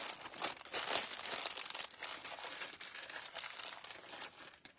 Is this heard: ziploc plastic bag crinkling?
yes